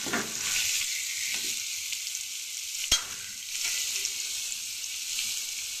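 Vegetables for shukto fry lightly in oil with a steady, close hiss and gentle crackle, stirred now and then, with one sharp knock of the spoon against the pan near the middle.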